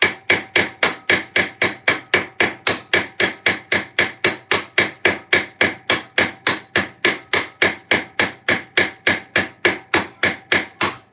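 Hammer peening a rivet on armour in a garage workshop: a long run of about forty sharp, evenly spaced metallic blows, loud and close, with no talk.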